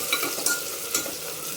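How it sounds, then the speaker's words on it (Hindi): Chopped tomato and onion frying in a pan for Punjabi chhole, a steady close sizzle with a few soft stirring scrapes, moderately loud and without voices. "एक बड़ी साइज़ का टमाटर काट के डाल देंगे और इनको भी अच्छे से हम भून लेंगे"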